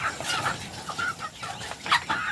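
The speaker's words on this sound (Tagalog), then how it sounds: "Ang tatakaw ng mga manok." Several chickens clucking busily while they feed, short soft clucks repeating irregularly at close range, with no talk over them.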